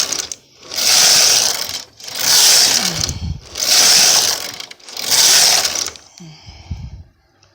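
Brother SK150/SK155 knitting machine carriage running a slip-stitch test, four loud sustained whooshing passes back and forth with short pauses between, then a quieter clack at the end.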